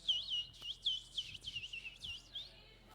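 A trinca-ferro, the green-winged saltator, sings a rapid series of clear, bright whistled phrases, about eight notes in quick succession, close and alone over a quiet background.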